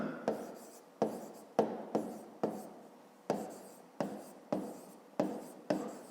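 Pen or pencil writing math on paper, a close series of about ten quick scratchy strokes, each starting sharply and fading, evenly spaced and alone.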